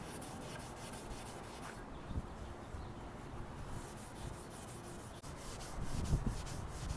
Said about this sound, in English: Chrome doesn't like to be sanded.